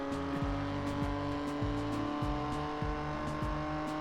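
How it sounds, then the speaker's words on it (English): A BMW M2 race car engine at full throttle in a racing game, circuit at Charlotte Roval, drones steadily and loud, with rhythmic rising gear-shift pitch sweeps repeating through the run, no talk. "Full throttle right here."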